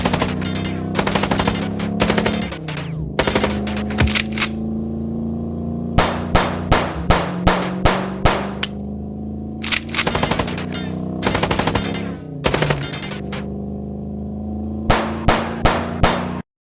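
Bursts of rapid automatic gunfire from the video game Chicken Police, loud repeated volleys separated by short pauses, with a low background hum underneath.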